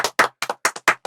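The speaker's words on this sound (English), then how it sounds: "Clap for the ones who counted." Several children clap in a classroom, a few loose bursts of sharp claps in short uneven groups, close and fairly loud with no talk over them.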